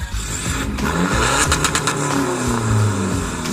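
A remapped 1.9-litre pickup engine revs hard through a throaty BIS aftermarket exhaust, sharp crackling blips partway through, then a sustained roar; close and aggressive.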